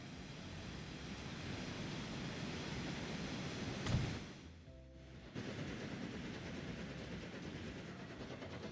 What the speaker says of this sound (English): heavy mineral trains with our new fast freight engines